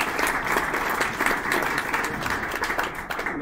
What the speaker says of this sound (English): give them a round of applause as they come on up here